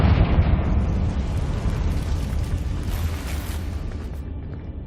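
A fire spell bursts in a Hogwarts Legacy game, a loud sustained explosive roar and crackle with rumbling low end that slowly decays over several seconds, heard alone without talk.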